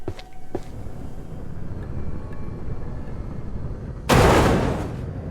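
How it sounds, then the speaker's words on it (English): In Ship Graveyard Simulator 2, a steady low industrial rumble carries faint scattered ticks before a sudden loud burst near the end, a sharp pipe pop that decays slowly into the background drone. "I can hear these pipes all pop in."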